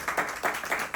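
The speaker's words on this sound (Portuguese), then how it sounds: "Uma salva de palmas" A short burst of audience clapping during a podcast recording, a few loud, distinct handclaps in quick uneven rhythm, close by and without talk.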